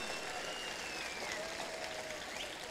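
A church congregation claps in praise during a live prayer service, a steady, fairly distant wash of applause that holds throughout, with faint whistles rising over it.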